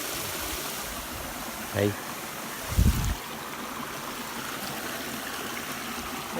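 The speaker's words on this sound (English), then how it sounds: "We got to the top of the waterfall now." Steady broadband rush of a waterfall heard from its top on an outdoor hike, constant and moderately loud, with a brief voice and a couple of short thumps over it.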